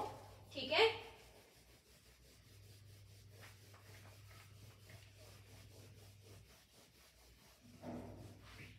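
A cloth or duster rubs writing off a board, giving a brief loud scrubbing swipe near the start, then a low steady hum, and a second softer rub toward the end.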